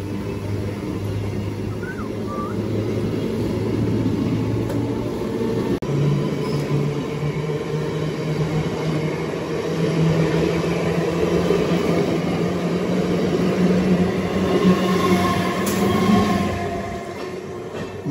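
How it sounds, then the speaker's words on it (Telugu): An intercity passenger train from SMVT Bengaluru toward Tirupati pulling out and running, heard from on board as a loud, steady rumble of wheels on rail with a low hum that rises slightly in pitch, no talk. "మన ట్రైన్ కూడా బయలుదేరింది."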